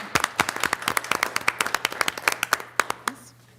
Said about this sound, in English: I think that deserves a little bit of a round of applause.